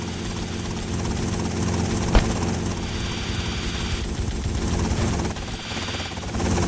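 Helicopter flight in GTA Vice City, a steady whirring rotor and engine drone that holds at an even level throughout, with one sharp brief spike partway through; no talk.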